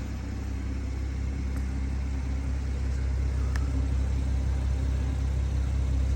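BMW M140i Shadow Edition hatchback idling with the right exhaust pipe open and a valve on the left, a steady, close, low rumbling drone with no revving and no talk.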